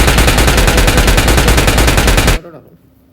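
Rapid automatic fire from an M416 rifle in a video game, a sustained loud burst, shots hammering in fast steady rhythm for over two seconds, then cutting off to near silence.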